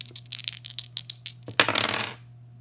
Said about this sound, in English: Here comes the dice roll.